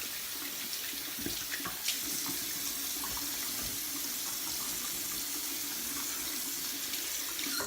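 Water runs steadily from a tap into a sink, a constant close splashing flow with a few small knocks and clinks.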